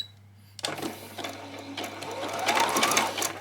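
A sewing machine zigzag stitches across a piece of skirt fabric for a peasant skirt, starting abruptly after a quiet moment and running in one close, steady, rapid whir.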